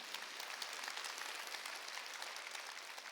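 A church congregation applauding at a Wednesday service, a soft, distant patter of clapping that stays even throughout.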